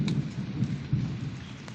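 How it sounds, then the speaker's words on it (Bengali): Low rumbling thunder rolls through steady rain, deep pulses of rumble under a continuous hiss of falling drops. "এখন মেঘ ডাকছে, খুব মেঘ ডাকছে"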